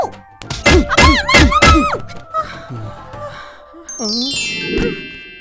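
A dull thud lands amid strained vocal groans and wails, followed by a rising electronic tone near the end.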